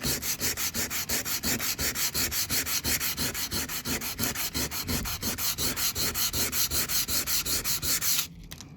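A hand works 200 to 220 grit sandpaper over a surface on a protected workspace, a close, loud, rhythmic scratching of quick even strokes, about two or three per second, that stops abruptly near the end.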